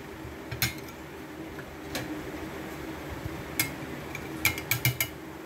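Plates are set down in a home kitchen during the preparation of air-fried roast chicken with pineapple, making a few scattered clinks and taps, with a quick cluster of clatters near the end over low room noise.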